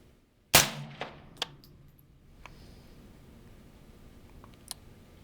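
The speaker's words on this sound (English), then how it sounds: "I'm going to take a shot in the dirt in back of it and see if we can kind of dial it in closer" A single sharp rifle shot cracks out loud near the start, trailing into a short decaying echo with a few faint knocks afterward, fired into dirt behind a target at an outdoor range.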